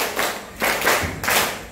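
A group clapping hands in a counted rhythm in a classroom coaching session, three distinct bursts of close, bright claps in steady succession.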